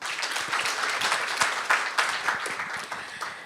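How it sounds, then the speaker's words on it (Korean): Applause from the audience at a Korean speaking contest for international students, welcoming a contestant to the stage; steady clapping from many hands fills the room for a few seconds, with a few louder claps near the end. "여러분 큰 박수로 맞아주세요"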